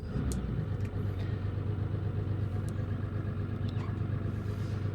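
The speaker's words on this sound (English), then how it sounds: "Just a simple matter of trimming that engine down, starting it up." A marine rescue boat's outboard engine runs at a steady idle as it warms up, an even, close low drone with a few faint clicks.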